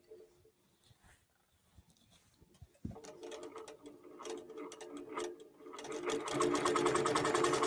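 QBOT V3 quilting robot driving a sewing machine to stitch in the ditch at a quilt festival demo, a quiet ticking start that builds into a steady, louder rapid stitching run.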